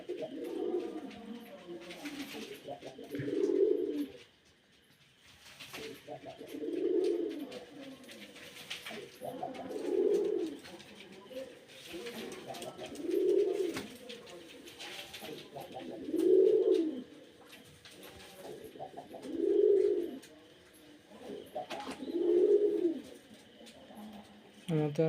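Domestic pigeons cooing close by, a soft, low, rolling call repeated about eight times at a regular pace every two to three seconds, over quiet background hiss.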